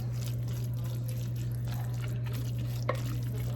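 A spoon stirs a stuffed shells filling mixture in a bowl, giving soft, wet, continuous scraping over a low steady hum, with a couple of small knocks near the end and no talking.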